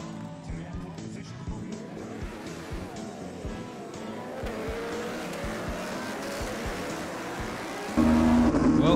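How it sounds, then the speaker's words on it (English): Racing motorbikes on the grid at the Le Mans-style start of the 2017 Motul 6 Hour endurance race, a dense roar of engines with rising revs and a sudden louder surge near the end. "The bikes are lined up on the grid for the Le Mans start"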